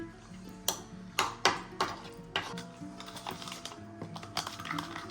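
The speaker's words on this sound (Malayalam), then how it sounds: "കൂന്തൽ കറി വയ്ക്കണം. നല്ല ചൂടാ. ഇതൊന്ന് ഇളക്കണം കേട്ടോ." A spoon stirs a squid curry in a hot pot, making a run of sharp, close knocks and clinks against the metal that soften into lighter, quicker taps.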